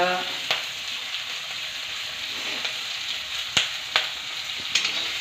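Ginger, garlic, green chili and curry leaves sauté in a pan, a steady close sizzle broken by a few sharp clicks and scrapes of stirring.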